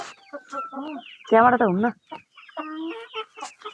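Chickens cluck in a busy, close series of calls, with one louder burst in the middle, while a person talks briefly over them.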